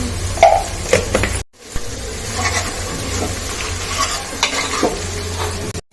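Chicken legs with slit green chilies and turmeric sizzle and fry in a pan while being stirred, a steady close crackle broken by a brief pause and scraping spoon sounds.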